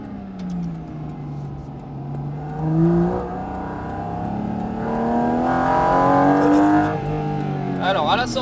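A Porsche GT4 RS on a race track at Pont-l'Évêque revs and accelerates with a rising, whirring engine note that climbs through the gears, heard from inside the car with engine and road noise filling the clip.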